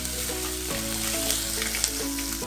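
Ginger garlic paste sizzling hard in a pan as the base for a Kerala-style fish curry, a loud steady crackling fry with a few brief stirring scrapes and no voices.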